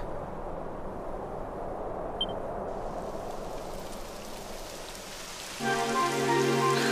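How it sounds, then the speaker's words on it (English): Steady rain pours down in the Dragon Quest XI video game, a dense even hiss that carries on throughout, joined near the end by a brighter layered music or ambience tone. "It would have to go and start raining, wouldn't it?"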